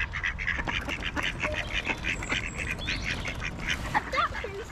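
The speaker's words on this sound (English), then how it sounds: "Oh, hello, ducks." Several ducks quack in a park, close and chatty, with repeated short calls over steady outdoor background noise and no talk.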